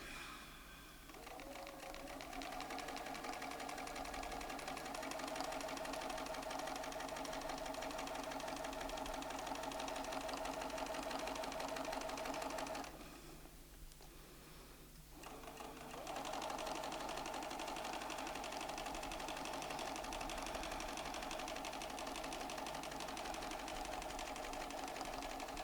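A Bernina sewing machine stitches steadily during ruler work, a loud continuous whirring hum that pauses briefly midway and then resumes at the same even pace.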